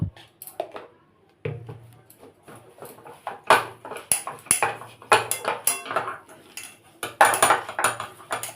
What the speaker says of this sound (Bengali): এবার আমি এটাই একটু বেসন মেখে নেবো